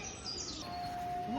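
Birds in a zoo enclosure at a European animal park give faint, thin whistles and chirps in a short burst over soft background noise.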